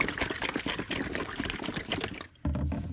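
Bottles holding oil, water and soap being shaken, giving rapid sloshing liquid splashes that pause briefly before resuming, close and fairly quiet.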